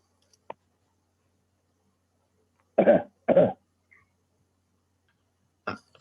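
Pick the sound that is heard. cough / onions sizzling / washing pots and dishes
cough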